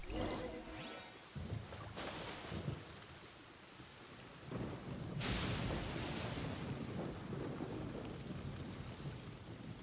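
Thunder from a lightning storm in Genshin Impact's Sumeru rolls and cracks over steady rain, with sharp nearby strikes around two and five seconds followed by long rumbling decay.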